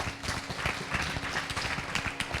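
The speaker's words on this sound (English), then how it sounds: "Let's give them a big round of applause once again." Audience at an evening Bhagwat Katha gathering claps in a steady, dense wash of applause that holds level throughout, with no voices over it.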